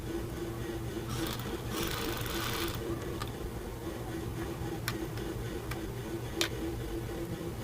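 Sewing machine double-stitching a fabric strip on a baby frock, a steady close mechanical whir with a brief louder burst and a few sharp ticks.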